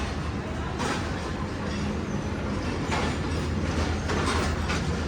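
Farid Express of Pakistan Railways pulling out of Lahore's platform 1, a steady rumble of wheels and carriage noise with occasional clacks throughout, close and continuous.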